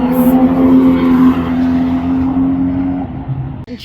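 At the Shannonville track, a race car roars past close by, followed by a Miata. Its engine note holds strong and steady, then fades and cuts off near the end.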